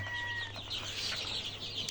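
Dense, continuous high-pitched chirping from many small birds, overlapping cheeps with a steady low hum underneath.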